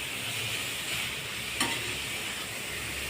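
Grated beetroot halwa roasts in ghee, a constant close hiss of sizzling with faint stirring and one brief scrape partway through.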